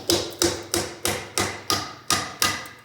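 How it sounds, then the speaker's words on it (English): Chisel struck repeatedly with a hammer against a Dodge 66RFE transmission housing, eight sharp, evenly spaced metallic blows ringing close and loud with no talk. "Typically, we don't like to use a chisel on a transmission"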